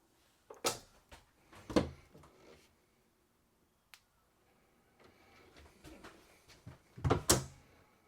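Soft-close drawers in the kitchen of a 2024 Yukon 399ML wide-body RV slide shut, giving several quiet, spaced knocks and thuds with a short click between them.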